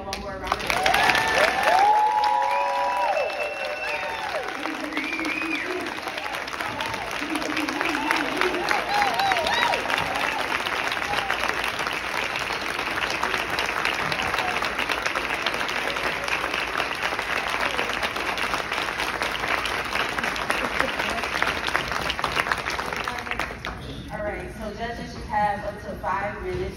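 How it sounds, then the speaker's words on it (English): Sustained audience applause after a student public debate at a conference, dense clapping from a large crowd holding steady for over twenty seconds, with some voices and cheers mixed in before it tapers near the end. "Let's give them one more round of applause."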